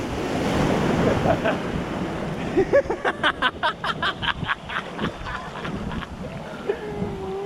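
Ocean surf at Manhattan Beach rushes and roars with wind buffeting the microphone, followed by a run of short rhythmic splashes as waves break nearby.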